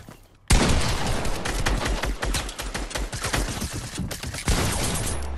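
Rapid bursts of automatic gunfire in the video game Fortnite, dense and continuous for several seconds with a brief lull before another sharp burst, loud and close with no talk over it.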